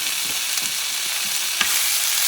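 Leftover cooked turkey meat frying in oil in a pan, a bright steady sizzle with soft crackles and a few sharper pops, close and continuous, no talking.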